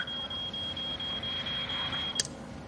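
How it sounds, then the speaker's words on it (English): A smoke alarm gives a continuous high steady tone with faint periodic pulses, moderately loud over a low room hum and ending in a brief click, with no talk. "All right, that's the smoke alarm, right?"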